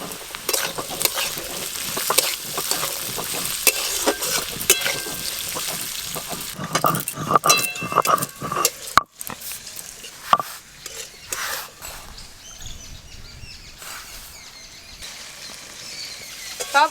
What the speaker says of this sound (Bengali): বিট আর গাজর একসঙ্গে বেশ ভালো করে ভাজা ভাজা করে নিয়েছি